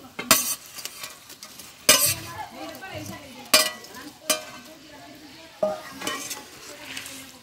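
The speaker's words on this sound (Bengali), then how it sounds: "দেখো ঝোলটা ফুটে উঠেছে। এবার আমি কোফতাগুলো সব দিয়ে দেবো।" Jackfruit and prawn koftas drop into a pot of simmering gravy with bubbling and a low frying hiss, punctuated by several sharp metal clinks of a spoon against the pot.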